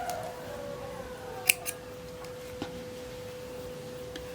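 Scissors snip through yarn during a crochet project, two quick close cuts followed by a fainter click, over a quiet room with a steady tone in the background.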